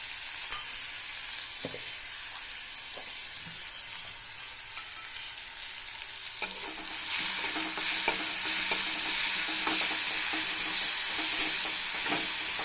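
Onions frying in oil in a pan while being stirred, a steady close sizzle with scraping stirs that grows louder and brighter partway through, no talking.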